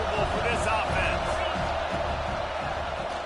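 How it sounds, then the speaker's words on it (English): Stadium crowd at a football game, a steady loud roar of many voices rising and falling, heard under an announcer's continuous commentary. "Crowd trying to make life miserable for this offense."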